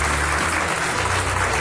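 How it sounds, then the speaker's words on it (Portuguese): Studio audience on a Portuguese afternoon TV talk show applauds a guest, dense steady clapping filling the room without a break, close and fairly loud. "um aplauso para a Odete."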